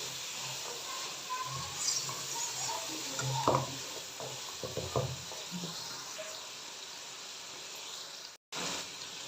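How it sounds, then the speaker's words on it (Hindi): Beef fries with spices and a little added water in a karahi, giving a steady hiss and sizzle with occasional stirring scrapes and small pops; a brief dropout comes near the end. "दो से 3 मिनट के लिए बीफ को हम फ्राई करेंगे मसालों के साथ।"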